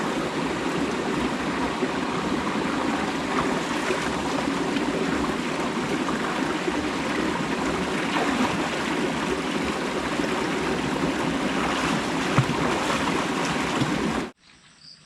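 Steady flowing river water rushes continuously at close range, a broad even wash with small splashes as people bathe in it, cutting off abruptly near the end.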